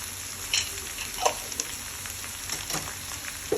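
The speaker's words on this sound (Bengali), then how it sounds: "এটাকে আমি ভালো করে এখন হচ্ছে ভেজে নেব সবজিটাকে" Mixed vegetables for a five-vegetable shukto fry in a pan with a little turmeric and salt, giving a close, continuous sizzle broken by a few sharp scraping stirs.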